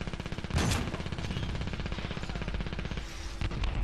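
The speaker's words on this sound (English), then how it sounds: "Razzle's going to poke out, see if he can take down some guys from afar with that minigun" Rapid, sustained minigun fire in a multiplayer shooter game rattles continuously at close range for several seconds, with a brief louder burst near the start and no talk over it.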